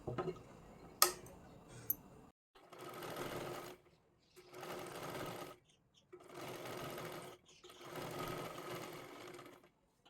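A sewing machine stitches a puff sleeve: a few sharp clicks and taps come first, then four steady whirring runs of stitching separated by brief silences, close and moderately loud.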